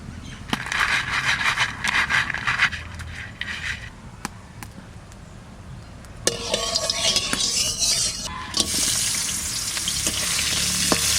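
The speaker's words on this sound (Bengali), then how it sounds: "উনুনটা ধরাই দিছি এবার কাঁকড়াটা ভেজে নিব" Crab fries in a pan for crab curry, with scattered clinks and scrapes at first, then a loud, rising sizzle in the second half as more hits the hot oil.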